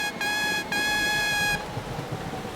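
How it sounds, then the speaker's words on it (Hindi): Two loud, tonal horn blasts from an animated cartoon train, a short one then a longer one, fading into faint background rumble. "मैं अपना हॉर्न बजाता हूँ।"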